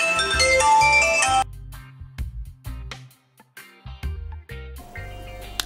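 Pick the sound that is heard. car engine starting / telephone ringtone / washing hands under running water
telephone ringtone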